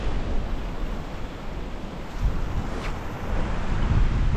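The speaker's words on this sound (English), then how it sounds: "Got that wind at our back, which should help." Strong wind buffeting the microphone at ocean cliffs during a fishing trip, a steady loud rumbling roar with surf-like wash throughout and no talking.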